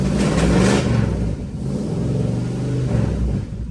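A 1973 Dodge Challenger big block V8 catches and settles into a lumpy idle after a cold start, a loud, close, rumbling throb that surges briefly at first and then runs steadily.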